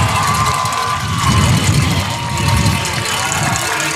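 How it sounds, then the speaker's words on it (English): A crowd at a Fort Stockton Panthers versus Estacado Matadors high school football game cheers in a steady, dense roar that swells slightly midway, with a broad wash of voices throughout. "The crowd is certainly happy about that."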